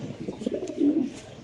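A male domestic pigeon coos close by in a brief, low, throaty burst with a rolling rise and fall, quiet and set alone against faint background noise.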